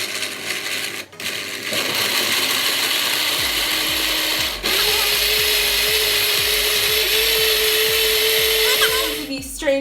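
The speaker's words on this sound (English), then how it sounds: "Okay, so now it's time for blending." A kitchen blender churns a homemade ice cream mixture with a steady, loud motor whir that jumps to a higher, harder whine partway through, accompanied by rapid rattling clicks.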